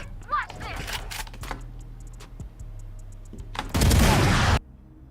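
Rapid gunfire from a first-person shooter game, with a few sharp shots and a louder burst near the end, heard under voices talking over the match.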